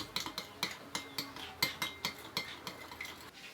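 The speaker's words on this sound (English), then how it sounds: "add a generous soupçon of sulfur and stir vigorously" Sulfur stirred vigorously into a rubber mixture for vulcanizing: a utensil scrapes and clinks against a container in a steady, rapid rhythm of about a dozen strokes, close and moderately loud.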